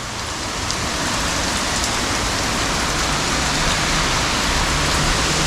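Heavy rain pours on a forest near Ijen, heard from a flooded rest shelter on a windy day: a loud, dense, unbroken roar of drops on leaves and ground, steady throughout.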